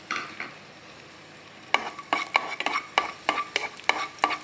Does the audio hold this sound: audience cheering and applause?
no